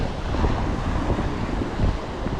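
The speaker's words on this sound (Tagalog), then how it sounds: "Lakas ang hangin ngayon." Strong seaside wind buffets the microphone in a constant heavy roar, with the wash of surf blended underneath.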